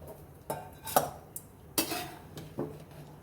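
Boiled chillies are moved into a pot in a home kitchen, heard as sharp clinks and scrapes of a metal spoon against the vessel, a handful of distinct knocks spaced unevenly, close and clear.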